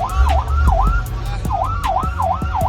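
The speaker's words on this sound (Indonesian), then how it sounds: "Mereka tidak sadar kalau mobil pemadam tersebut sudah di belakang mereka." A fire engine's wailing siren rises and falls repeatedly, loud and close, over the rumble of traffic and engines on an Indonesian street.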